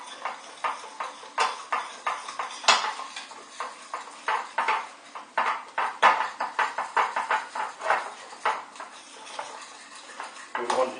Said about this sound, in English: I'm just going to keep mixing this now until it turns into a nice paste.